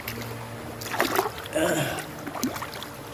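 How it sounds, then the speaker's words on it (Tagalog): A small stream trickles and splashes over rocks among bamboo roots, a soft steady wash of water with louder splashy bursts, while people talk nearby. "Ganda ng tunog ng sapa. Tunog ng tubig pala."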